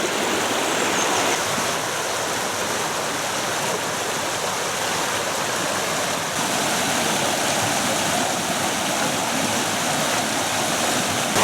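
Wyming Brook in the Peak District rushes steadily over its bed, a dense, continuous close-up water roar with no voices.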